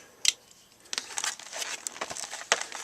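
A knife slices open plastic flashlight packaging, producing close crinkling and tearing with a few sharp snaps and rustles, fairly quiet and without talk.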